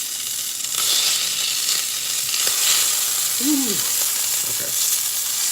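Filet mignon sizzles and fries in a hot pan, a steady broadband hiss running throughout with a brief sharper crackle midway; a voice utters a couple of short exclamations over the sear.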